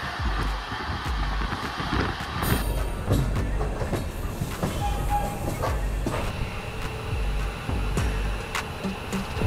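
Kolkata Sairang Express passenger train held at a signal near Dum Dum junction, with loud continuous rumble and clatter of rail traffic, a steady close roar and occasional squeals throughout.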